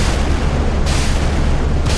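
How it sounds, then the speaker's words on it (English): A 76 mm naval gun firing rapidly in the Sea Power naval combat game, a dense, continuous roaring barrage of booming shots blending into a loud rumble, close and steady throughout with no voices. "Naval gun turns, 76 mil. Look at this rate of fire."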